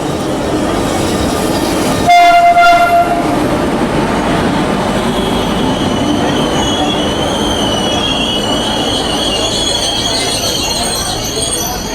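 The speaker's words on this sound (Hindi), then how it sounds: "देखते हैं क्या होता है जब आती है ट्रेन।" An Indian Railways express train pulls into a station platform on the Delhi to Udaipur route, a loud continuous rumble of wheels and carriages with high metallic squeals building, close and dominant throughout, with crowd noise faint beneath.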